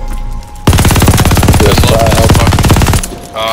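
Sustained automatic gunfire from Call of Duty Vanguard multiplayer, a loud, dense rapid burst of shots lasting about two and a half seconds before cutting out to quieter game ambience.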